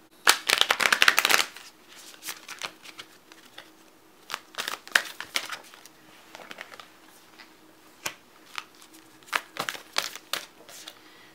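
Oracle cards, moon-themed, being shuffled by hand at close range in repeated bursts of riffling and flicking, fairly quiet with pauses between.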